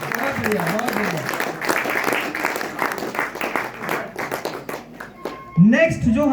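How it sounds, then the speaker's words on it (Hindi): Indoor audience clapping for a leader on stage at a team rewards celebration, dense applause that thins out toward the end, followed by a voice speaking over the last claps. "नीरज जी के लिए जबरदस्त तालियां बजाइए दोस्तों"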